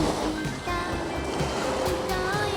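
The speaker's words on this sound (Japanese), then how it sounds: "波の音を聞きながら散歩しています" Ocean waves wash steadily onto a beach on a fine summer day, a continuous broad surf roar with gentle swells, close and fairly loud with no talking.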